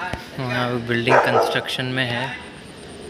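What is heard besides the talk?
dog barking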